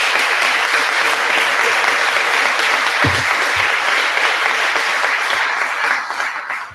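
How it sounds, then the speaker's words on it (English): An audience at a governor's weekly press conference gives a sustained round of applause, loud and even throughout and tapering off at the end. "So let's give Josh a round of applause."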